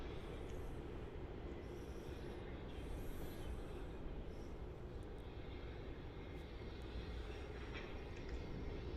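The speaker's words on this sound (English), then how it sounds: "looks like we have the China Eastern A350 coming in now from Shanghai." Distant, steady jet roar of a China Eastern Airbus A350 arriving at Melbourne Airport from Shanghai, a soft continuous wash of engine noise with no talk.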